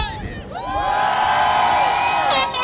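Race crowd at a GNCC ATV event podium cheering, whooping and shouting loudly, a sustained roar that swells and holds, with a few higher yells near the end.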